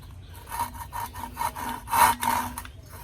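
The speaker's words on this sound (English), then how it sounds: "the saw only cuts on the forward stroke" Hand saw working along a marked cut line in wood, cutting only on the forward stroke: a steady series of about eight raspy strokes, close and moderately loud, with no voices.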